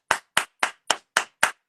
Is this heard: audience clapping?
yes